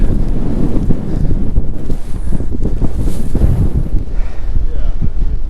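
Strong wind roars across a high sea cliff in the Faroe Islands, buffeting the microphone with loud, continuous gusts, while a voice speaks briefly.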